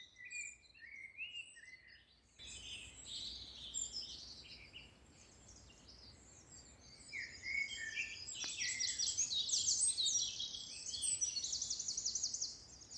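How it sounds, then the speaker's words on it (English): Dawn chorus on East Dartmoor with a song thrush and a wren singing, bright overlapping high-pitched phrases and trills that swell louder toward the end over soft background hiss. "So at the moment we've got a songthrush to our left, wren to our right."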